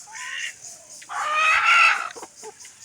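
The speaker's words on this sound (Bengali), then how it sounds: "এই আমার মুরগি" Desi hens on a home farm cluck and call in short loud bursts close by, with one longer throaty call in the middle and a few quick clucks after it.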